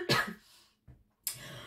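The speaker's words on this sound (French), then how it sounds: "Je tousse encore un petit peu de temps en temps." A couple of short, breathy coughs close by, the first strongest, separated by a brief pause and a faint throat sound, otherwise quiet.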